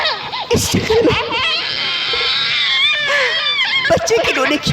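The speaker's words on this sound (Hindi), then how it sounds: "बच्चे की रोने की आवाज" A baby crying and wailing in a forest, loud and continuous with rising and falling cries over background sound, close to the listener.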